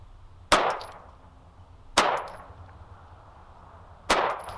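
Three sharp, loud reports from a Smith & Wesson M&P 2.0 Compact 9mm pistol firing 115 grain Blazer Brass at a target 15 yards away, evenly spaced about every two seconds, each ringing out with a brief metallic tail.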